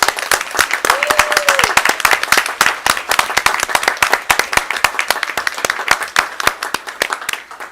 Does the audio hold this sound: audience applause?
yes